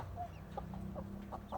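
Mother hen at a fence line challenging another hen near new chicks: a few short, soft clucks spaced irregularly over a low steady background hum, fairly close, with no talk.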